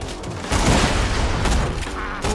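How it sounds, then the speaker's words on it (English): Video game gunfire in Borderlands 2, a loud, dense fusillade of rapid shots and booms from a chaotic firefight, continuous throughout with only brief lulls. "gunfights going everywhere"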